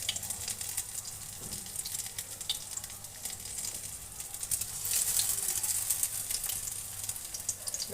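A snack of cabbage stuffed with shrimp filling fries over medium-low heat in a pan, giving a constant, fine sizzling hiss that swells slightly midway, with no talk.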